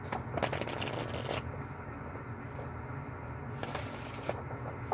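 Several quick riffling bursts of cards being shuffled, close and crisp, with soft scraping between them and no talking.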